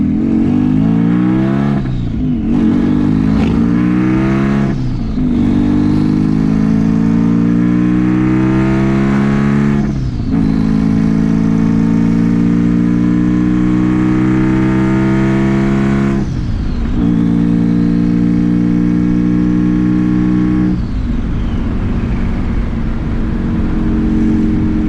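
A street-tuned twin-turbo Subaru STI engine revs repeatedly to high RPM, each loud, close pull climbing steeply in pitch before dropping back, with a sustained, unbroken roar throughout.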